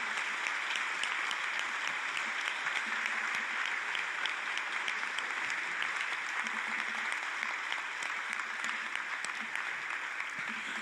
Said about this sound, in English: maybe we can let loose for a moment and give our applause to these 5 great candidates